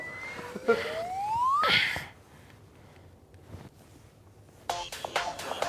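A mobile phone ringtone plays as a bright electronic tone sweeping upward, then falls quiet before a cluster of short electronic chirps sounds near the end.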